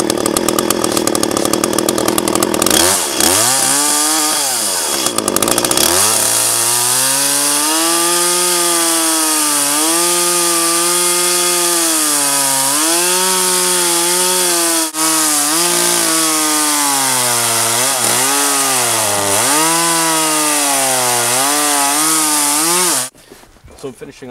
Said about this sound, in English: And so the chainsaw was pretty dull